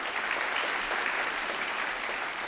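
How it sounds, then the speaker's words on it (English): A crowd applauds at a televised vocal battle competition, giving a steady, even wash of clapping that lasts a couple of seconds with no voices on top. "Round of applause, please, for the Cosmopolitan."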